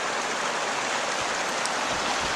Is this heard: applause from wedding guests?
no